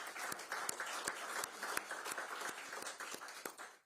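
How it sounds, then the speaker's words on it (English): A crowd at a Raleigh City Council annual retreat claps for the Raleigh Police Department, fairly faint and sparse with distinct individual claps standing out. "Let's give them a round of applause."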